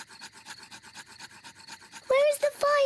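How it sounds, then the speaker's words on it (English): Two sticks are rubbed together to start a campfire in a Peppa Pig cartoon, a quick rhythmic scraping of about a dozen strokes, followed by a loud exclamation from a voice. "Daddy Pig is rubbing the two sticks together to light the campfire."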